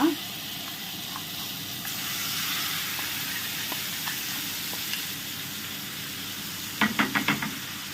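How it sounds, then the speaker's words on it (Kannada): Ground masala frying in hot ghee gives a steady hiss and sizzle throughout, ending in a few sharp clinks and scrapes near the close. "ತುಪ್ಪ ಬಿಸಿ ಆಯಿತು ಈ ತುಪ್ಪಕ್ಕೆ ಕಡ್ದಿಟ್ಟ ಮಸಾಲವನ್ನು ಹಾಕಿ ಬಿಡುವ"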